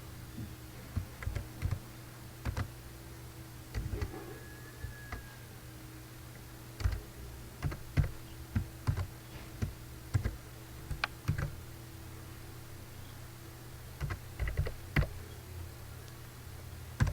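Keys clatter on a computer keyboard in uneven bursts of quick taps and short pauses, close and fairly quiet against a faint steady electrical hum, with no voices.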